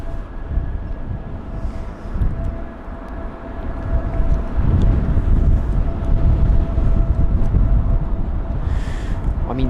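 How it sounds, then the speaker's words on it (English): A Boeing 737-700 airliner landing at London Heathrow on a windy day, a steady, loud, broad jet roar that swells and holds throughout with a faint engine whine on top. "But yes, this 737-700 is in sight."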